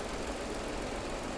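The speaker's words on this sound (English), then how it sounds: "Let's listen to the engine real quick. There's your engine." A car engine idling at a salvage auction lot, its dirty, uncovered engine bay open: a steady, close, dense mechanical rumble with constant vibration, no talk over it.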